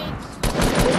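Rapid automatic gunfire in the Fortnite video game bursts in loudly partway through, following a quieter stretch, and continues as a dense, sustained volley.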